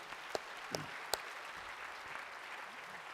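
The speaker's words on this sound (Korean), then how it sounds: "축하 박수 한번 해드리세요." A church congregation applauds in congratulation during a sermon, a soft, distant-sounding patter of many hands with a few sharper individual claps near the start.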